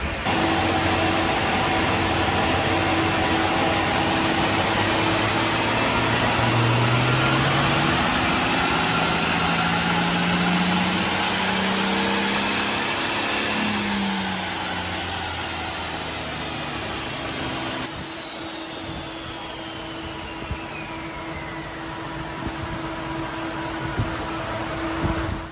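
Toyota Land Cruiser 300 engine running on a dyno, fitted with an aftermarket cold air intake, a loud, steady drone with a rising and falling tone before it settles to a lower, constant hum. No voices.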